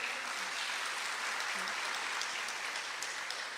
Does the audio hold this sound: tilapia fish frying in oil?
no